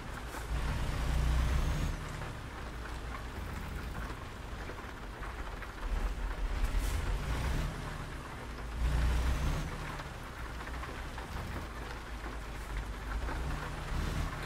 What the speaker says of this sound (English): It's raining now, too.